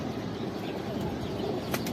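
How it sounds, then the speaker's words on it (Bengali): A pigeon's wings flap in a brief soft flurry over a steady, noisy outdoor background at a home where pigeons are fed. "এই যে এটা একটা অতিথি কবুতর, এখনই আমাদের বাসায় আসছে।"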